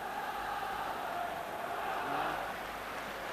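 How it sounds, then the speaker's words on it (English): A large stadium crowd at a Rangers v Hearts football match gives a steady, sustained roar of applause and cheering, dense and distant-sounding, with no clear breaks. "there's the applause for Ali McCoist, coming back on his feet"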